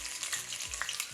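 Onion frying in oil in a 5-quart pot over low heat, a steady close crackling sizzle with occasional stirring scrapes and pops, no talking.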